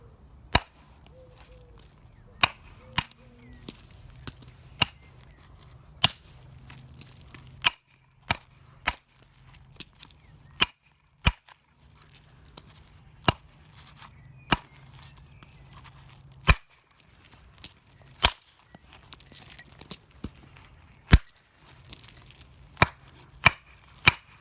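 Sharp, isolated knocks of a soft hammer striking flint while knapping a handaxe ring out one at a time at irregular intervals, with quiet pauses and faint shuffling between blows.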